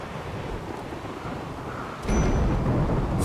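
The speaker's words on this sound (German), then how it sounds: "Es regnet." Steady rain hisses in a temperate forest setting in RimWorld, a dense even wash of noise that turns louder and heavier partway through.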